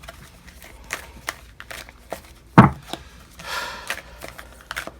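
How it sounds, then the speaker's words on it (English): Tarot cards being shuffled by hand, giving soft scattered taps and rustles with one sharper snap midway and a brief papery riffle after it, fairly quiet and close. "So I'm gonna stop shuffling when I feel like I'm getting something."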